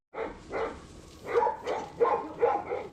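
Dogs at a shelter housing about 80 dogs bark in a quick series of five or six fairly close, moderately loud woofs with no talk over them.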